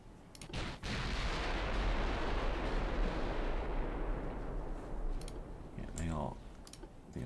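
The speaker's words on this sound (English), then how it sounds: "They are shooting out a battleship." Naval artillery fire from battleship and cruiser guns in the Ultimate Admiral Dreadnoughts naval warfare game: a sustained, loud rumbling barrage with sharp blasts and clicks near the end, no speech over it.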